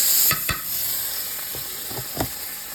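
Mussels cook in butter and garlic in a pan, sizzling steadily while a utensil stirs them with several distinct scraping strokes, close and fairly loud, with no talking.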